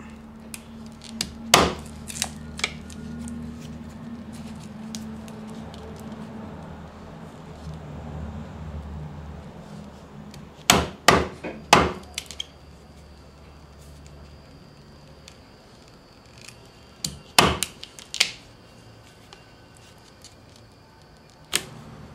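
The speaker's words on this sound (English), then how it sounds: "we'll use the chisel and we'll cut out the spots" Chisel cutting out spots in a leather gun holster, sharp percussive strikes in scattered clusters, some single and some in quick runs, close and loud over a quiet room.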